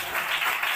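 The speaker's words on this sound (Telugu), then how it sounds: "చప్పట్లు కొడదామా" A church congregation breaks into clapping during a sermon, a brief, dense burst of steady applause from many hands filling the room.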